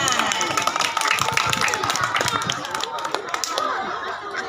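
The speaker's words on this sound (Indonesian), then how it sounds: "terima kasih, tepuk tangan" Children in a first-grade class at an elementary school clap together, a busy mix of claps with chatter and voices mixed in, fairly close and steady before tapering slightly.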